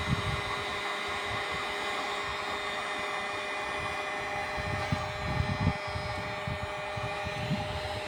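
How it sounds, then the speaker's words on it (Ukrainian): A steady, loud blowing roar of a hair dryer runs throughout, with a constant whine and no talking. "А кум каже, що в мене є фен. Бери феном пробуй."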